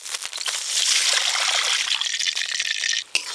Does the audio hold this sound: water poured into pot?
yes